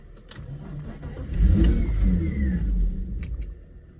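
A BMW E46 engine rises from idle into a loud, sustained rev as the throttle pedal is pressed, holding the higher pitch for about two seconds before settling back, with a few sharp clicks at the start and end.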